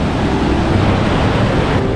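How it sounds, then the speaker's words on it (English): Strong ocean waves on a Mexican beach make a steady, loud roar of surf, with heavy wind buffeting the microphone and no talking. "Just look how strong those waves are."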